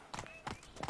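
Horse hooves clopping in a quick galloping rhythm in the Witcher video game, three bursts of thuds over one second, with a brief whinny-like tone mixed in, close and moderately loud.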